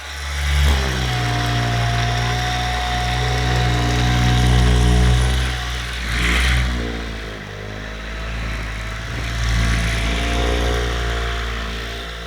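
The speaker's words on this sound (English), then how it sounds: "It's literally a car buffer" A car buffer used as a deep-tissue massage tool on the chest runs steadily and loudly up close, a continuous motor whine with slight dips and rises in pitch as pressure shifts, no voices.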